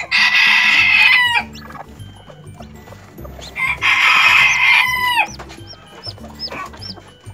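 Loud, close chicken calls: two long, harsh squawking cries from a protective hen with newly hatched chicks, with softer clucks and faint chick peeps in between.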